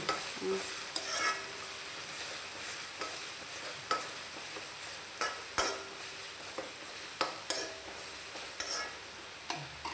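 Ginger-garlic paste and masala fry in a pan with a soft, steady sizzle, while a spoon stirs and scrapes now and then in sharp clicks and taps, close by and with no talking.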